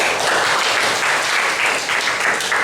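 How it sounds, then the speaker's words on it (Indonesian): An audience in a high school classroom claps in steady applause for the full span, dense and fairly close, with no talking over it. "Kita kasih aplaus terlebih dahulu."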